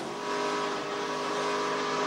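A stock race car runs at Rockingham during the 2008 ARCA Carolina 500, its engine a loud, sustained roar with steady tonal whine throughout, close and continuous without speech.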